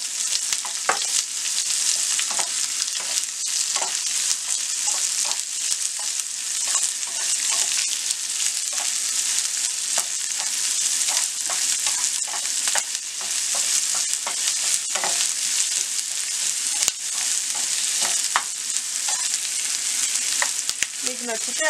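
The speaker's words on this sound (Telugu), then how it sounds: "కరివేపాకు వేసుకొని ఫ్రై చేసుకోవాలి." Curry leaves fry in a pan for a South Indian snack batter base, giving a steady, close crackling sizzle throughout with occasional stirring clicks and no talking.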